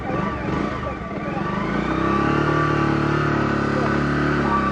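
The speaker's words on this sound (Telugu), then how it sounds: "ఈ బైక్ని చిన్న సీసీ బైక్ కాబట్టి కొంచెం చూసుకొని వెళ్ళాలి" A small-displacement motorcycle rides along a highway on a long-distance trip, its engine droning steadily and growing louder after the first second.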